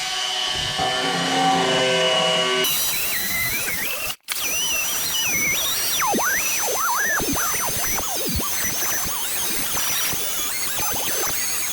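A Dremel-style rotary tool whines at high speed, its pitch rising and dipping as it bears on machined brass for a tank lever, loud and close with a brief cut-out partway through.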